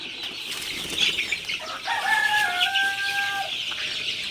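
A flock of 19-day-old Sonali super hybrid chicks gives high, thin chirps and peeps, some drawn out, over a rustle of wings and movement, with no voices.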